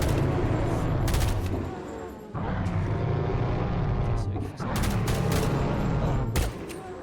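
Sustained rapid gunfire aimed at a triceratops in Jurassic Craft, dense loud bursts with brief breaks, under someone talking excitedly.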